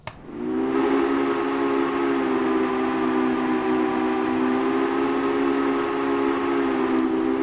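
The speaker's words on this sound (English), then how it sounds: "we're going to blow the whistle" A steam locomotive whistle sounds in the Railway Empire video game, one long steady chord-like blast held for about seven seconds with no talking over it.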